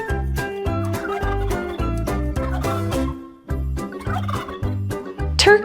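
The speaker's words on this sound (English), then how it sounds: "Turkey." A turkey gobbles in rapid, warbling bursts over a steady, beat-driven children's tune, with a sharp high squeal near the end.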